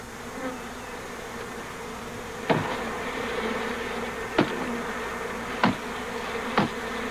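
A swarm of honey bees buzzing during a removal, a continuous dense drone held steady throughout, broken by four sharp knocks spaced a second or two apart.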